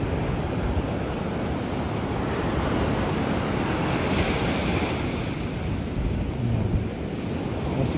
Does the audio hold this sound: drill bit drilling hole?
no